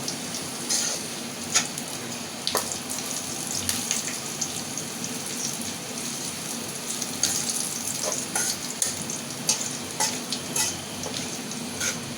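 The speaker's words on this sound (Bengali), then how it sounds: "জিরে পেঁয়াজ মরিচ তেজপাতা একসাথে আমি ভেজে এটা আমি উঠাই রাখবো" Cumin, onion, chili and bay leaf fry in a pan for gourd-shrimp curry, a steady close sizzle with scattered stirring scrapes and clinks, and no talking.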